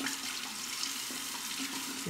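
Razor rinsed under a running bathroom tap during a wet shave, a steady close splashing water stream lasting the whole stretch with no voices.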